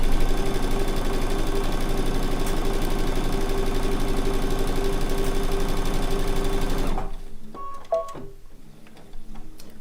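A sewing machine runs steadily, quilting a line through 100% cotton on a fabric bowl cozy, a close, fast, even mechanical whir that stops abruptly, followed by a few faint clicks and handling sounds.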